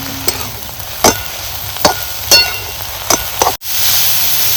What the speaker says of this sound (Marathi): अशी ही भाजी हलवून घ्यायची आता आपल्याला परतून घ्यायची